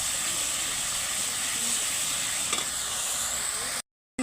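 Spices with turmeric and salt sizzling steadily in hot oil for a Bengali prawn curry, a close continuous frying hiss that cuts off briefly at the end.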